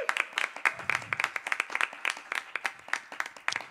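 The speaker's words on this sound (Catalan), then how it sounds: "Un aplaudiment per ells, sisplau." Sparse audience applause at an online youth cantata concert, a small group clapping with distinct individual claps in an irregular patter, moderately quiet and steady for several seconds.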